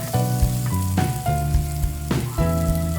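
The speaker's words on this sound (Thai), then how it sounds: "ให้นำเนื้อสัตว์ลงไปผัดก่อนค่ะ" Meat sizzles and crackles loudly in a hot wok, stir-fried for drunken noodles, with a few scraping stirs of a utensil breaking up the steady frying hiss.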